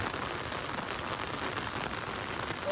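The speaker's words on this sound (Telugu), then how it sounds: "వర్షం కూడా అలా వస్తూనే ఉంది." Rain falling at Araku during an outdoor photo shoot, a steady dense patter that stays even throughout, moderately loud with no talking.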